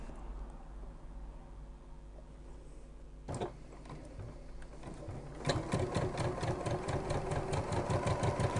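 Sewing machine stitching a diagonal seam at 2.4 stitch length on a fabric medication bag organizer, starting with a few faint sounds, then a rapid, rhythmic mechanical whirr that runs to the end, close and clear.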